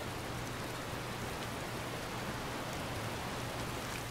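Steady rain from an ENB weather mod in Skyrim Special Edition gameplay, a dense, even hiss of rainfall that stays loud and unbroken throughout with no talking.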